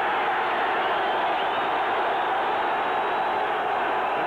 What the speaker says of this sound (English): The crowd exhorts the defense.